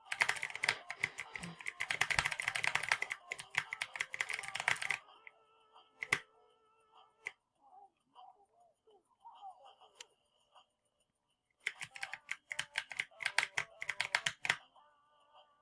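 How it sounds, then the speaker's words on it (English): A new computer keyboard being typed on in dense bursts of rapid key clicks, pausing for several seconds before another flurry of typing resumes, close and fairly loud. "I got a new keyboard"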